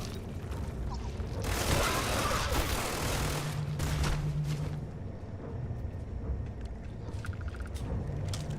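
The Mag Shear gun firing in the video game Starfield, a dense crackling burst of rapid shots with a booming, mechanical edge, loud and sustained for several seconds before fading into a lower background rumble.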